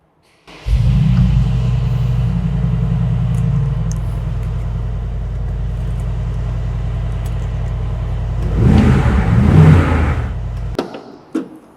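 A Mercedes-AMG G63 engine cranks and fires, settling into a loud, steady deep idle rumble, then rises in a brief rev burst near the end before shutting off.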